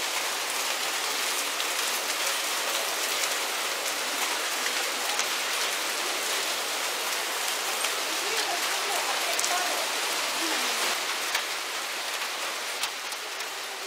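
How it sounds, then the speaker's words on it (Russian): Heavy rain from a thunderstorm with hail beats down steadily at Krutitsy Metochion in Moscow, a dense, even hiss of drops on surfaces that continues without break throughout, loud and close. "Где-то час мы пережидали грозу и град"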